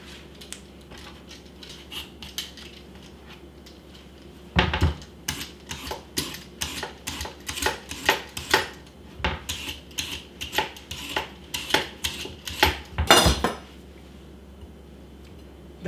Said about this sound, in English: peeling it is so much easier when you have the right tools like this OXO